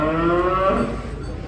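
A calf or young cow moos once in a long, drawn-out low call, close and loud, with no talk over it, at a cattle show where animals are unloaded from a truck.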